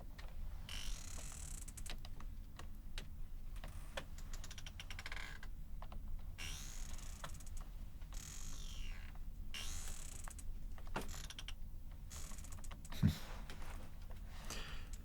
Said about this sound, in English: It'd also be better if you had a stool in here that wasn't so damn squeaky.